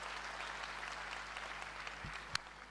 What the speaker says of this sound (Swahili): Makofi hayatoshi.